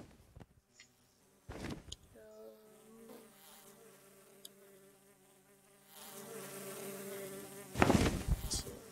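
A swarm of bees buzzing in the Minecraft video game, many bees crowded together, a steady layered drone that swells louder toward the end, with a few brief sharper sounds.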